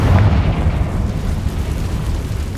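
Confringo blasting spell from Hogwarts Legacy goes off as one loud, deep explosion with a heavy low boom that decays into a rumbling tail for a couple of seconds.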